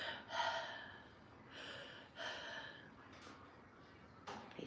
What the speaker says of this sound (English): You're breathing awful hard.